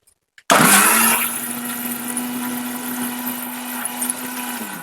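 A mixer grinder blending sweet corn starts abruptly and whirs loudly, then settles into a steady high-pitched hum as it blends, running continuously.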